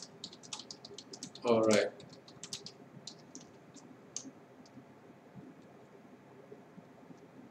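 Light clicking of typing on a computer keyboard, scattered soft taps spread through the clip, close but faint, with a brief spoken remark near the start.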